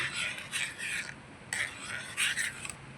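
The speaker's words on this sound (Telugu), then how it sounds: "ఒకసారి తిప్పుదాం ఫ్రెండ్స్" Semiya payasam, a vermicelli milk pudding, being stirred in a pot, giving two close bursts of scraping and rasping, each lasting about half a second to a second, separated by short pauses.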